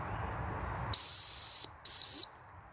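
A homemade sycamore wood whistle gives a loud, pure shrill tone, first one long blast, then two short blasts in quick succession, following a soft rustle and fading into silence.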